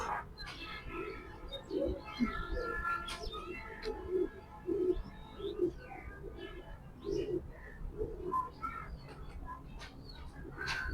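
Racer pigeons coo in repeated soft, low rolling calls, several birds overlapping in a steady murmur with faint chirps around them.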